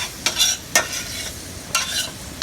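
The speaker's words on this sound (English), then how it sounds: "brown them a little bit, get some of that goodness down." Beef tips sizzle in hot oil in a pan while a utensil scrapes and stirs them in several sharp, close strokes over a steady frying hiss.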